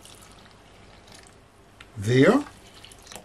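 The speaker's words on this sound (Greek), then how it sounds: "Θα ανακατέψω και θα βάλω και 3 κούπες νερό." Water poured from cups into a mixing bowl, a short, fairly loud splashing gush lasting about half a second, with quiet room sound before and after.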